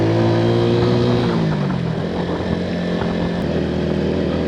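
A 125 Scrambler motorcycle rides an off-road enduro route, its engine droning loud and close. The pitch falls gradually as the rider eases off, with no talk over it.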